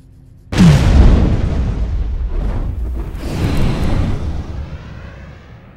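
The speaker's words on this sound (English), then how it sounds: "They just set a breaching charge, by the way" A breaching charge detonates through a door in a sudden loud, booming blast, followed by a rumbling decay and a second surge of debris and echo that fades out.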